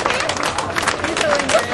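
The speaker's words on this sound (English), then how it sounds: "Let's give a big round of applause." Audience clapping at a spicy dosa eating contest, a dense steady patter of many hands with crowd murmur and chatter mixed in, fairly close and lively throughout.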